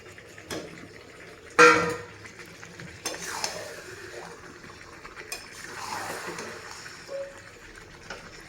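Meat and potatoes being sautéed in a pan, a low sizzle with scattered clinks and scrapes of a utensil against the metal and one sharp clatter near the start.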